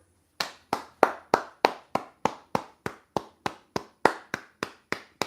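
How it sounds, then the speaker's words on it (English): Steady, evenly spaced hand clapping, about sixteen sharp claps in a regular rhythm, close and fairly loud, with no talking. "they deserve a round of applause"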